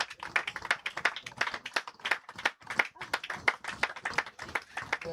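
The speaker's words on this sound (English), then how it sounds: "she should get a rapturous round of applause here from everyone watching, as she does" Applause from spectators at a Sussex Women's Cricket League Premier Division match between Hailsham and Horsham, greeting a departing batter: steady, moderately close clapping from a modest crowd, hands beating in a continuous uneven patter with no voices over it.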